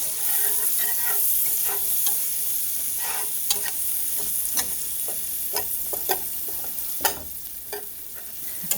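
Onions for beef stroganoff frying in a pan with a steady bright hiss and crackle, broken by scattered scrapes and taps as they are stirred.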